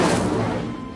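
The Incendio fire spell in Hogwarts Legacy bursts out as a loud, dense whoosh of roaring flame that fills the moment and slowly tapers off.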